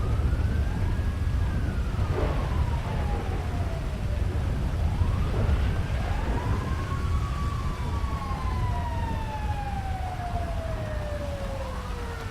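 Several wailing ambulance and rescue sirens in the video game GTA V sweep up and down over steady highway rumble, rising and falling in overlapping long glides that grow steadily closer.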